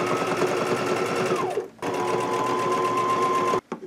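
A sewing machine runs a straight stitch through faux leather at a 4.0 stitch length, a steady close whir that stops briefly, restarts for a second long run, then cuts off near the end.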